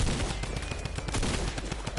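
Rapid bursts of gunfire from the video game Fortnite rattle continuously and fairly loudly across a short stretch of dense, noisy game action.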